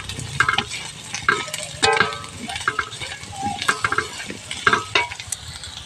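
Potatoes frying in a pan with turmeric and salt are stirred with a utensil, giving repeated close scrapes and clinks against the metal over a steady sizzle, with no talking.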